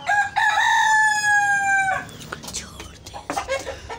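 An Aseel rooster crows once, a loud, close, drawn-out call lasting about two seconds, followed by fainter clucking and farmyard shuffling.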